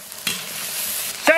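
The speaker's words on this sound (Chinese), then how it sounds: "油锅来个豆豉调料，辣妹子豆瓣酱" Fermented black beans and chili bean paste fry in hot oil in a wok, a steady close sizzle with a couple of sharp scraping stirs of the spatula.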